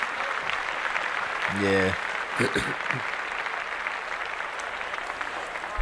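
A small group claps steadily throughout, moderate and close, while someone speaks briefly and another voice interjects over the applause.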